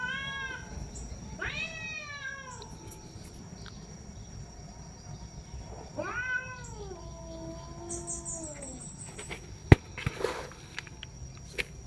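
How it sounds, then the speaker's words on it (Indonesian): Fighting cats caterwaul some distance away: two long, drawn-out, wailing yowls rise and fall, with insects chirping steadily in the background and a few sharp clatters near the end. "Masih ada kucing berkelahi itu, tapi sudah agak jauh dari saya."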